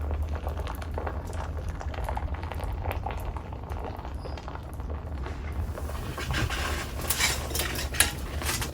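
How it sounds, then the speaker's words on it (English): Molten bronze is poured down the handle guard into a sword mould, giving a continuous bubbling, sputtering splash with scattered clicks that turns brighter and crackly toward the end, heard alone and up close. "You can hear the metal splashing around as I pour it down."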